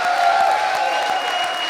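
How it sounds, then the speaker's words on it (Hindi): Studio audience on a Hindi TV comedy show applauding a celebrity guest, a steady, sustained wash of clapping with a faint tonal hum running beneath it. "और एक बार फिर जोरदार तालियां हमारी आज की स्टार रज्जो उर्फ कंगना रनौत के लिए,"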